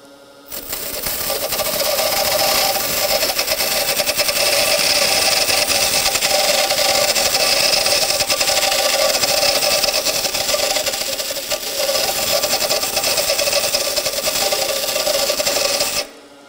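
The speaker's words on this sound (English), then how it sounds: "to move this from side to side on the wheel. I want to wear the wheel or true up the wheel all the way across." A bench grinder's abrasive wheel is trued as a dressing tool moves side to side across its face. A steady, loud rasping grind runs for about fifteen seconds, close and unbroken, with no speech.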